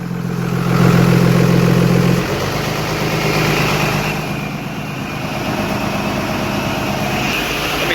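A hotshot truck with a broken VGT turbo runs with its exhaust brake engaged to warm up, giving a steady, loud diesel drone whose low rumble drops in level partway through and then holds.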